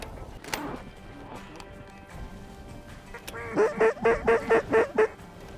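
A flock of mallard ducks during a November hunt in South Dakota, heard as a near, rhythmic run of about eight loud quacks in the final seconds after a quiet start.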